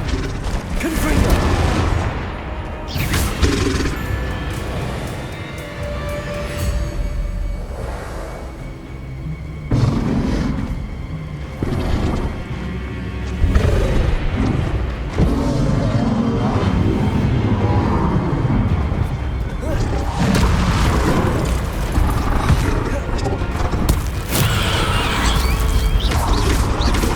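Confringo explosion spells blasting in combat in the Hogwarts Legacy video game, with repeated heavy booms, crashes and clanking mechanical impacts layered densely over a continuous loud battle din, and a voice speaking at times.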